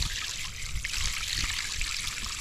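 Water trickling and pouring steadily at close range, a continuous splashing hiss with a low gurgle underneath, no voices.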